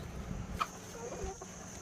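A hen clucks softly a couple of times against quiet outdoor background noise.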